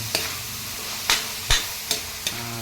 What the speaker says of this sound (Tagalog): Tapos yan, ginigisa po natin.